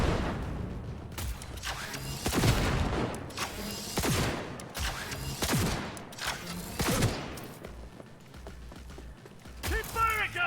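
Video game gunfire: repeated loud bursts of shots and booms in irregular clusters over about ten seconds, with mechanical clatter between volleys.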